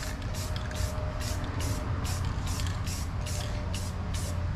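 Spray paint dusting a white snow effect onto a carved wooden Christmas tree, a series of short hissing bursts in quick regular pulses, close and steady.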